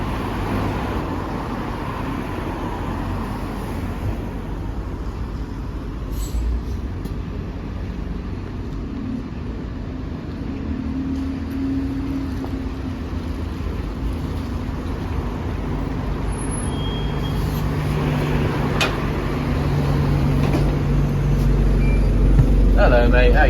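A TfL Alexander Dennis Enviro 200 single-deck bus on the K3 route idles with a steady low engine rumble, growing slightly louder toward the end, with faint traffic noise and occasional voices in the background.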